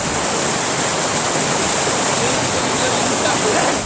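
Floodwater in Thoothukudi rushing at high speed after heavy rain, heard as a loud, continuous broadband roar that stays steady throughout with no breaks.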